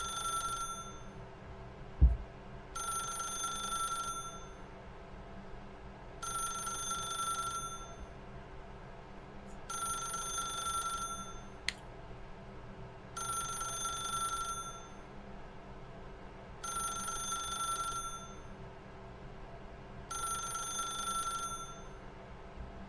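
An old-style telephone bell ringing in The Stanley Parable video game, seven evenly spaced bursts of bright electric ringing with short pauses between, moderately loud over a low room hum, plus a thump early on.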